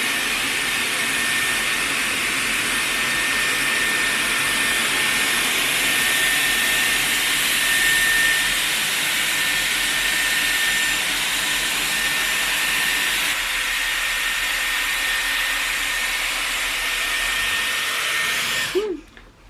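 A hair dryer blows steadily on hair during an at-home, salon-style blow-out, a loud, close, unbroken whoosh that runs nearly the whole time before switching off abruptly at the end, with no talking.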